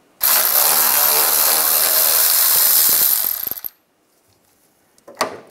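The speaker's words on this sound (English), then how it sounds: "use a 14mm socket, take this bolt out" A ratchet fitted with a 14mm socket loosens a bolt on a Toyota 4Runner, giving a loud, close, rapid clicking for about three seconds, then stopping, followed by one sharp metallic clink.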